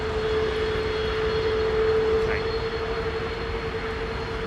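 An aircraft in Boston Bruins livery at London Heathrow gives off a steady, loud engine roar with a sustained whining tone, continuous and fairly close for the whole moment.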